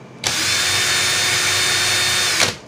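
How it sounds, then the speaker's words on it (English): A power drill runs in reverse to loosen a ribbon clapton coil wound on 24 gauge wire, a steady loud whir starting abruptly and cutting off after about two seconds, with nothing else heard. "Now I'm going to put my drill in reverse"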